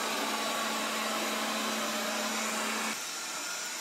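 A Proscenic 820S robot vacuum cleaner runs under a sofa with a steady whirring motor hum, fairly quiet, whose tone drops abruptly near the end as it keeps going alone.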